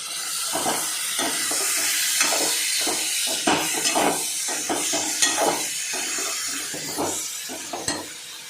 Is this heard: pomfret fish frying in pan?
yes